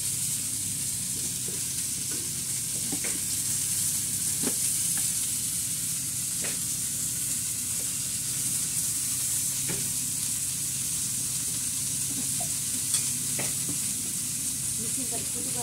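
Fish fries in a pan in a Bengali home kitchen, a steady, even sizzle and hiss with occasional light clicks from stirring, continuous and moderately near.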